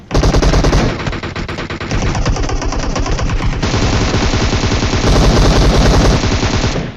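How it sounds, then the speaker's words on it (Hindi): Rapid automatic gunfire from a shooter video game rattles almost continuously for several seconds, loud and close, with brief shifts in tone as bursts change, no talking. "तभी धड़ल्ले से फायर करता वो वाला बंदा"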